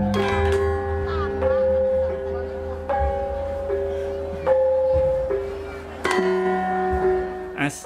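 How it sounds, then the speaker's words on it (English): Javanese gamelan ensemble with sarons, temungs, beduk drum and gong plays a slow melody, bright metallic struck notes ringing out in a steady sequence over low sustained gong tones. "This melody is interspersed with core melodic notes known as dawahan from the temungs and sarons and accented by the beduk and gong."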